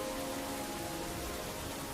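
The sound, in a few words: rain sounds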